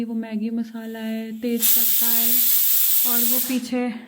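Pressure cooker hissing while cooking khichdi, a loud steady jet of steam that rises mid-clip and holds for about two seconds between stretches of someone talking.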